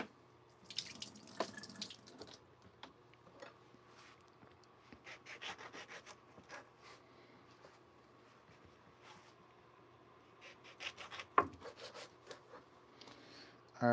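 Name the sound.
water running in a Japanese sink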